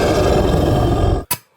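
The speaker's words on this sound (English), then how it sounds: "Oh, that's for Daniel and the lion's den" Lion roar played from a sound jar for a Daniel in the lion's den story, a long loud growling roar that cuts off abruptly, followed by a brief sharp burst.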